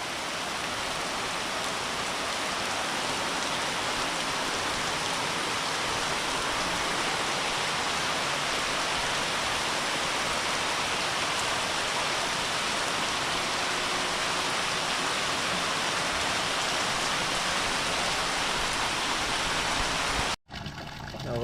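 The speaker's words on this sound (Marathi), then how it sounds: "बाहेर परत पाऊस चालू झाला जोरदार पाऊस आहे" Heavy rain pours down in a dense, continuous hiss, steady and loud for the whole stretch before cutting off abruptly at the end.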